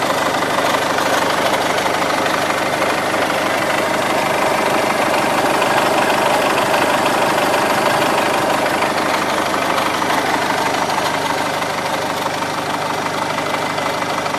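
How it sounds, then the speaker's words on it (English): A hydraulic winch motor runs while feeding new cable, a steady loud mechanical drone with a throbbing, knocking engine texture that holds constant and unbroken for the whole stretch, with no one speaking. "The hydraulic motor down there."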